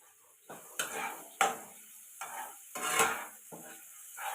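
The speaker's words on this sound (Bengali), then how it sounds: "এরকম আস্তে আস্তে করে পেঁয়াজটা লাল লাল ভাজা করে নিতে হবে" Chopped onion fries slowly in a pan with cloves, cinnamon, peppercorns and cardamom, giving a soft sizzle broken by about six scraping stirs that come in irregular bursts.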